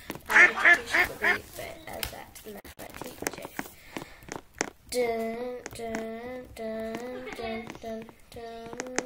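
Ducks quack in a video game, a run of repeated nasal honking calls in steady rhythm after a burst of excited voices and clatter, with talk in between.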